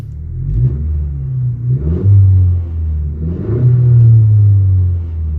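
Honda Civic engine fitted with a new rear motor mount revving up in repeated bursts, a loud close rumble swelling and easing several times with no talk.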